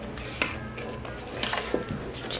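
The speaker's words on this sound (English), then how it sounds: "Your biggest rubber spatula that you own, get in there, you plunk in the center, and you start folding" A large rubber spatula folds chocolate almond cake batter and whipped egg whites in a bowl, making soft, close scraping and squelching strokes with a few light clinks against the bowl.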